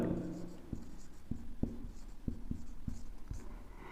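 A pen writes a formal letter on paper, scratching in a run of short taps and strokes of steady rhythm, close and fairly quiet beneath a faint room hum.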